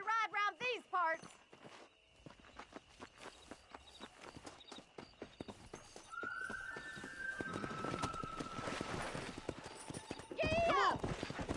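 Horses galloping in a Western race in Red Dead Redemption, a rapid, steady clatter of hooves that builds louder and denser, with riders shouting and a whistle-like tone partway through.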